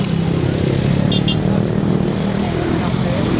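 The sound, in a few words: motorcycle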